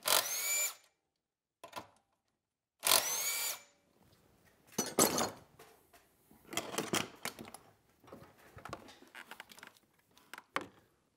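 Power tool backing bolts out of a 6.0 diesel engine during EGR cooler removal, sounding in several short whirring bursts separated by pauses, fairly close and with no talk.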